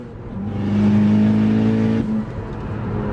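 A turbocharged 350 hp ninth-generation Honda Civic Si accelerating hard through the gears, its engine tone climbing loud and close, then a sudden shift drop and renewed pull.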